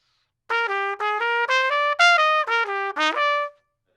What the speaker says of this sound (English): this is how it should sound, smooth without any interruptions, slow